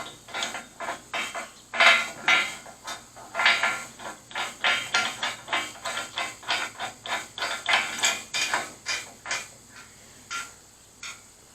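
A ratchet wrench tightens a nut down onto a lock washer on a tractor implement pin, producing a steady run of close, metallic clicking strokes in an even rhythm that repeats more than a dozen times.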